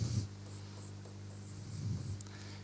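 Pen writing math equations by hand on paper during a quadratic equation lesson, a steady soft scratching of strokes running throughout, close and fairly quiet.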